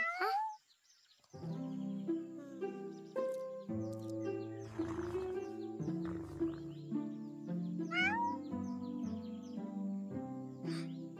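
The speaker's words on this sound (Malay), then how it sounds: "Kucing! Miau! Miau! Miau!" A cartoon cat meows in an animated Si Kancil folk tale, a few short pitched mews set against bright tonal sound effects or music in a clean studio mix.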